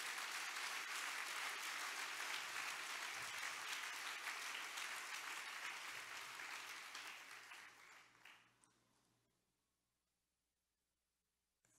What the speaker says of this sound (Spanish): Aplauda fuerte la grandeza de mi Cristo.